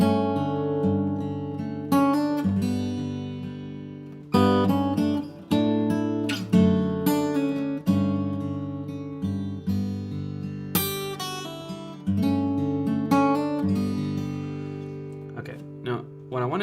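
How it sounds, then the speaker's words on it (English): A G Lydian scale played on a pitched instrument, a steady run of distinct notes rising and falling with some ringing sustain, close and fairly loud, with no talking. "if I play G Lydian, it's going to sound."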